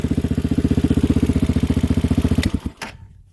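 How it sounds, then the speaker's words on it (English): A Honda Hawk 250 motorcycle engine runs at a fast, even idle with a steady pulsing chug, then cuts off abruptly near the end. "when you turn on the key and you hit your start button, Well, it cranks right up."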